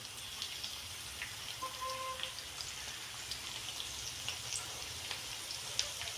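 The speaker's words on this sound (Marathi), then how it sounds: "तेल थोडंसं गरम झाल्यानंतर आपण त्याच्यामध्ये 5 ते 6 लसूण सोलून थोडासा क्रश करून घेतलेला आहे." Five or six peeled, lightly crushed garlic cloves fry in hot oil, a soft continuous crackle and spatter with a faint tone in the background.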